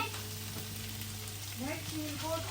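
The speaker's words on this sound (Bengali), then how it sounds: "এই যে বুট ভাজি করতেছি" Chickpeas frying in a pan for an iftar snack, giving a steady hiss of sizzling oil under a constant hum, with faint background sounds and no clear talk.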